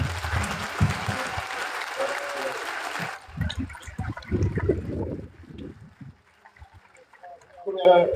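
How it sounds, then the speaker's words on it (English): A crowd at a Jamaican high school graduation ceremony breaks into a burst of applause that cuts off after about three seconds, followed by softer scattered sounds and murmuring voices. "We have another round of applause for SSB Samuels."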